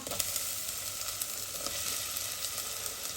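Chopped onion and green chili hiss loudly as they hit hot oil in a pan, a dense, continuous close-up sizzle with faint stirring underneath.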